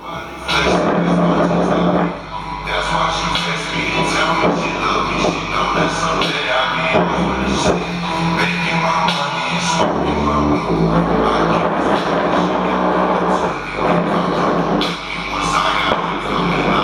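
Three woofers cranked up and driven hard with loud bass, a dense, booming low-end roar that fills the whole stretch, nearly constant with only brief dips.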